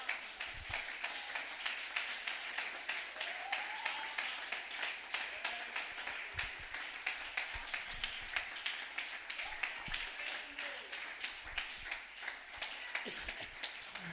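Church congregation clapping along in a steady rhythmic beat, crowd of hands at moderate distance, continuing evenly for the whole stretch with faint voices underneath.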